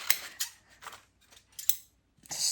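Old antique scissors snip through paper in a series of crisp, close cuts, about five sharp blade strokes with short pauses between them, quiet and alone.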